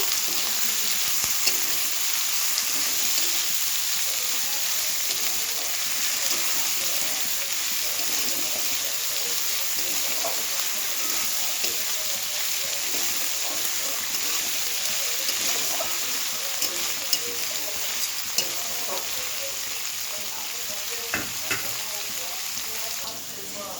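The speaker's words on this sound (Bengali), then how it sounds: "পেঁয়াজটা হালকা করে একটু ভেজে নেব" Onion lightly frying in a pan, a soft, even hiss of sizzling oil that runs steadily throughout, with faint scattered pops and crackles.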